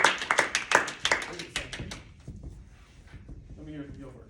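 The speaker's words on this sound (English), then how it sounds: "clap it up for brother DeAndre." Audience claps at a community talk, a short burst of sharp, close handclaps over the first two seconds that quickly dies away, followed by people talking.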